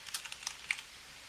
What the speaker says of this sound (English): I'll start typing them in the chat.